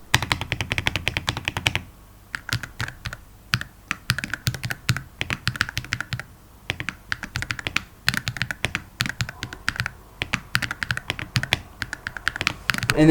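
A modded Wooting 80HE keyboard fitted with new switches types in rapid, uneven bursts of crisp clacks, close and loud with short pauses between runs and no talking.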